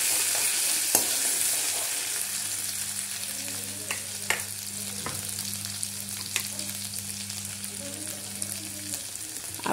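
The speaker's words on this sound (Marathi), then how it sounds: "मिरची, लसूणची पेस्ट टाकून घेऊया। चांगली ब्राऊन होऊ द्यायची।" Green chili and garlic paste frying in a pan gives a continuous bright sizzle, broken by occasional scraping stir clicks and a low steady hum underneath.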